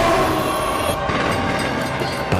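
A train passes loudly and close in a public service announcement about rail safety, a dense rushing rumble with wheel noise that stays steady for a couple of seconds.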